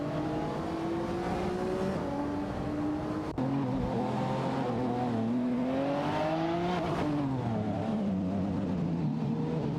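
Racing engines of a Lamborghini Murcielago SV and a BMW 3.0 CSL in a video game drone steadily, pitch rising and falling through gear changes, with one sharp shift break and tire noise, loud and continuous without speech.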